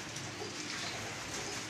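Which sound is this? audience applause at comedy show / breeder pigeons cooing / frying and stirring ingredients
breeder pigeons cooing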